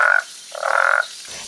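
Male frogs calling at night in Mistico Park, two loud croaking bursts close by, the second longer and steadier, with quiet gaps between them.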